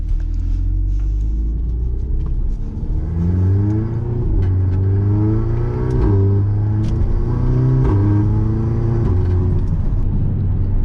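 An FSI/TFSI car with an upgraded high-pressure fuel pump accelerates hard, its engine climbing through several rising revs with gear changes between them, loud and close, with a faint whirring note on top and no voices.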